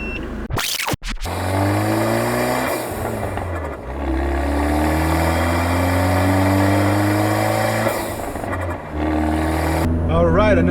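A stock turbo-tuned Fiat 124 Spider Abarth engine heard from inside the cabin revs through repeated rising pulls, with clear changes in engine pitch between gears and brief dips where the throttle lifts, loud and close throughout.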